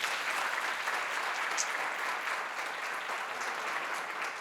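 Steady applause from a conference audience at a cybersecurity and AI round-table event, a dense, continuous wash of clapping with no gaps, moderately distant and even in loudness throughout.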